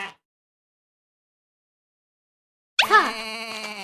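A single sheep bleat from a children's phonics lesson, clear and close, with a wavering drawn-out cry that comes in alone after a long stretch of silence.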